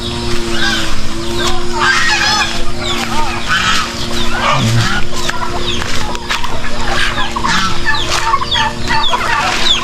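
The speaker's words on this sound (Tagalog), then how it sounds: "um, manok at pabo so" Chickens and turkeys on a Philippine farm cluck, gobble and cackle loudly in a dense, continuous chorus, with someone talking over the birds.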